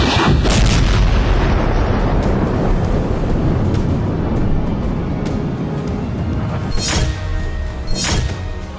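Heavy, continuous booming rumble of explosions and artillery fire from Russian missile strikes on Ukraine, loud and dense throughout, with sharper blasts near the end.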